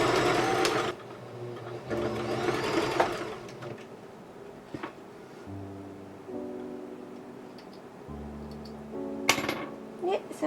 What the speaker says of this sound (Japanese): 直線伸縮縫いで縫っていきます。